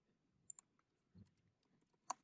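A computer mouse clicks a few times, sparse and faint, with isolated sharp ticks scattered across an otherwise quiet moment.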